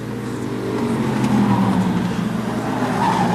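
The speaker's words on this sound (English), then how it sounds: "Piasny has reeled in Pat Tanguay as they battle down the back straightaway, and this is for the lead" Hobby stock race cars battle for the lead down the back straightaway of a short oval track, their engines a loud, continuous roar with tire noise throughout.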